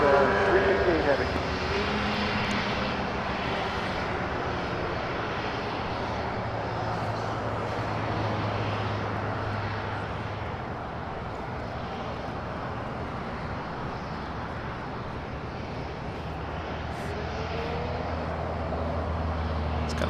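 A Boeing 777 jet arriving at LAX gives a steady, broad roar of engine noise that holds through the whole stretch, with a low rumble building near the end.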